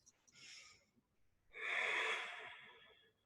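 Two slow, deep breaths drawn in quietly at close range during a guided yoga and self-care session, the second inhale longer and fuller, with near silence around them.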